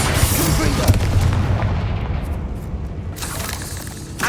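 Confringo explosive spells blast during combat in the Hogwarts Legacy video game, a loud, nearly continuous barrage of deep booming detonations rumbling over one another without pause.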